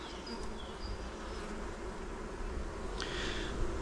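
Honeybee colony buzzing inside a hive during an early spring inspection of a nervous colony, a steady dense hum held throughout, moderately loud and alone with no talk.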